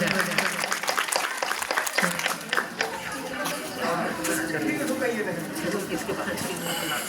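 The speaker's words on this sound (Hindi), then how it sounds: "तालियां बजाएं।" Audience applause at an Independence Day ceremony, a dense, steady clapping from a seated crowd that carries through the whole stretch, with voices murmuring underneath.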